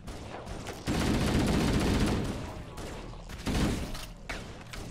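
Shotgun blasts and gunfire in the video game Halo: Combat Evolved, two loud bursts of firing separated by a quieter stretch, with faint voices in the background.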